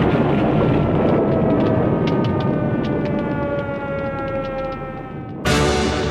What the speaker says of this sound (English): we heard the air raid sirens